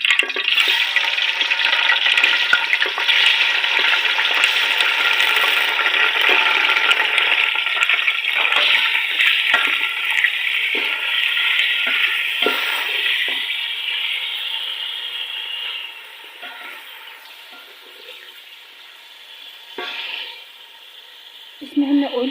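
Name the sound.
chicken frying in oil in a pan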